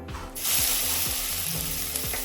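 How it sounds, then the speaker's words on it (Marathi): Garlic and green chili paste sizzles in hot oil in a kadai, a loud steady frying hiss that flares up after a quieter start, with faint scraping stirs underneath. "लसूण मिरचे वाटल्याने चांगले परतून घ्यायची"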